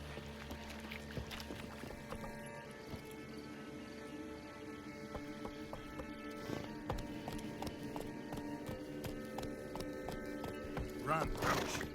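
Roach, the horse from the video game Witcher III, gallops in a rhythmic run of hoof clip-clops under steady in-game music and ambient sound.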